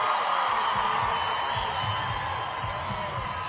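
A home crowd lines the start ramp of an under-23 individual time trial at the 2025 UCI championships, giving a steady, distant roar of cheering over a low rumble.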